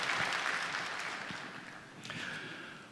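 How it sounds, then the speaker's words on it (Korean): A church congregation applauds the designer during a Sunday service, a fairly soft wash of many hands clapping that fades gradually, with a brief louder swell near the end. "참 고마운 마음으로 먼저 우리 박수 한번 올려드렸으면 좋겠습니다"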